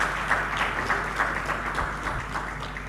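An audience applauding a speaker's wife at a governance event, steady dense clapping from a crowd, moderately loud and continuous throughout.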